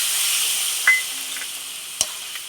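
A splash of bowl-rinsing water goes into a pan of fig curry, giving a steady sizzling hiss broken by a couple of sharp clinks or scrapes, close and clear with no talk.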